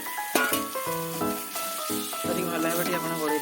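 Marinated chicken dropped into frying masala for a chicken gravy, giving a continuous soft sizzle and hiss beneath a louder tonal melody or voice that runs throughout.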